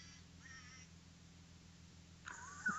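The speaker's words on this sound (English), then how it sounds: "that was a banged up, cheap ass duck" Toy Aflac duck quacking, a cheap, battered squawking toy giving a few faint, thin nasal quacks spread apart, then a louder honk near the end against a quiet background.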